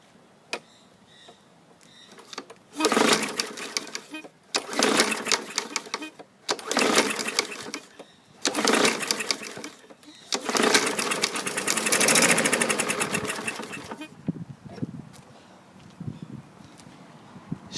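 A 2015 Yard Machines 550EX lawn mower engine being pull-started: several loud, rasping bursts of the recoil cord and turning engine, separated by short pauses, close up, with a quieter tail afterward.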